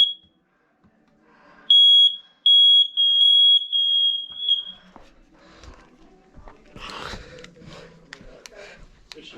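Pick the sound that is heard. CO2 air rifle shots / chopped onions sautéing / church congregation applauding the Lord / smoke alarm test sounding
smoke alarm test sounding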